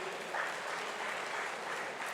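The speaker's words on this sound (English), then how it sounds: "Let's give a round of applause to Professor Sam Egu" Audience applause for Professor Sam Egu after a public lecture at Nigeria's 26th Democracy Anniversary celebration, a continuous, even roar of many clapping hands, steady and somewhat distant in a large hall.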